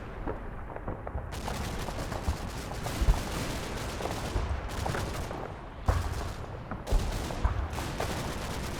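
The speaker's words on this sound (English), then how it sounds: "Oh, actually German getting small arms fire off." Small arms gunfire from the Normandy battlefield of the video game Combat Mission: Battle for Normandy, a continuous dense crackle of distant rifle and machine gun fire with a few sharper bursts, at moderate volume, no talking.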